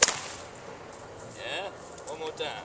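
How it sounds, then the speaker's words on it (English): A single sharp whip crack in the Cattleman's or circus style snaps right at the start, close and loud, followed by someone speaking briefly. "was the Cattleman's crack, or sometimes you might hear it called the circus crack"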